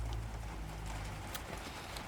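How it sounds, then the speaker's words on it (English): Gentle rain falls steadily across a garden, a constant close wash of patter with faint scattered drips on top. "And now the rain. Can you hear how gentle it is?"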